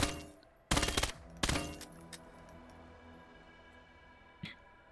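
Rapid bursts of small-caliber fire from a compact 9mm-type submachine gun in the Vail VR shooter, two loud close volleys followed by a fainter single shot over a steady background hum.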